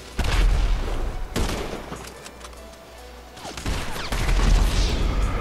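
Gunfire in the multiplayer crime game GTA 5 Online, including sniper shots, comes as loud, dense bursts of shots and booms throughout. The firing eases briefly in the middle and then returns heavy.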